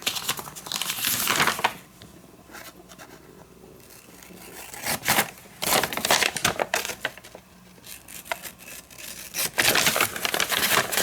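Scissors cut through card paper in several bursts of crisp crinkling and snipping, separated by quieter pauses, close up.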